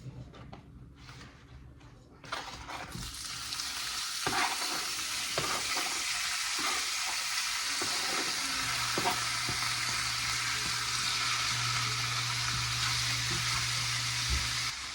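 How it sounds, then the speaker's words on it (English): Chicken sizzling in a hot frying pan, a close, steady crackling hiss that starts suddenly as it hits the pan and then holds strong, with occasional clinks of utensils. "So I have 2 pans heating up. One's gonna be for the chicken, one's gonna be for the beef."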